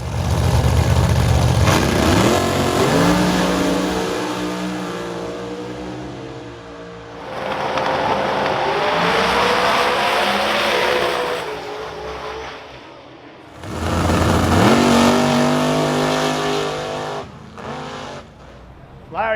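Loud drag racing cars rev and roar at a drag strip, bursts of engine noise rising and falling in several waves with a brief lull between them.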